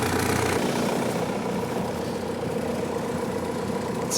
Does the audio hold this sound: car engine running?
yes